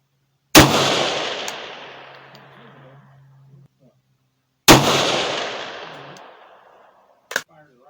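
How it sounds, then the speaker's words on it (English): Two loud, close rifle shots of 5.56 rounds with 55-grain bullets crack out several seconds apart, each leaving a long fading echo, followed by a brief metallic clatter near the end. "Fire the rifle."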